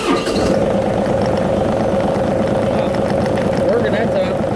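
A 2018 John Deere 3038e tractor's diesel engine catches after cranking and settles into a steady, loud idle close by.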